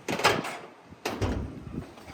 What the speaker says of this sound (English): Just gonna open this door.